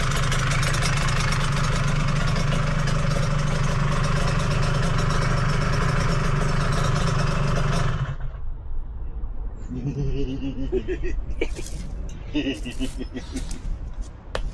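A Yamaha TZR250 two-stroke motorcycle engine runs loud and steady at its first start, then cuts out, leaving quieter clanks and handling noises with people talking nearby.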